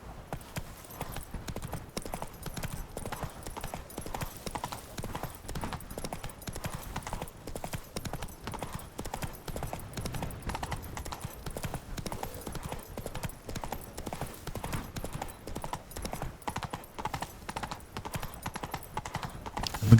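Roach the horse gallops across open ground in The Witcher 3: Wild Hunt, a steady, continuous clip-clop of hooves running throughout at moderate loudness, with game ambience underneath.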